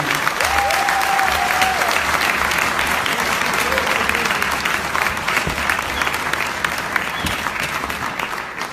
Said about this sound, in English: I love to have a big round of applause for Dr.